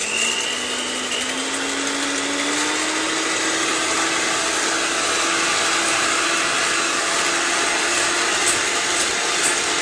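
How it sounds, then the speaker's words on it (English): An electric kitchen mixer whirs continuously while making a creamy chocolate pie filling, a loud, steady motor drone with a slowly rising whine and no pauses. "It's just like she uses this mixer."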